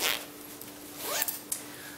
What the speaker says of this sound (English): Go ahead and zip that up.